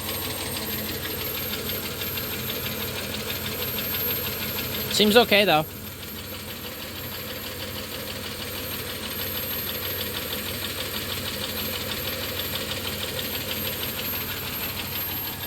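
A 1993 Plymouth Grand Voyager SE engine idles with a steady rapid ticking, its fault noise running throughout beneath brief speech partway through.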